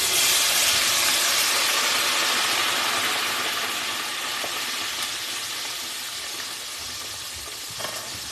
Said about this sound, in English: Let's fry these fries.